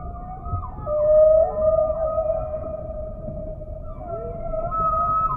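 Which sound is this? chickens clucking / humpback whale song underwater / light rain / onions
humpback whale song underwater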